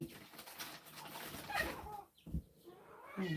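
Roosters among a backyard flock of chickens outside make scattered, faint clucking calls at feeding time, a few short bursts against a quiet outdoor background.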